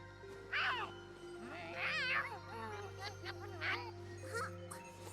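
Several meows from Rolo, a cat in Tales of Xillia 2, in a short series of rising and falling calls with a light jingling tinkle, sounding fairly close over a steady low background hum.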